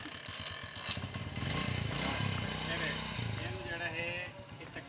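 A motorcycle being restarted: the engine sputters and then runs rough and close, with a rising rev, while people talk over it.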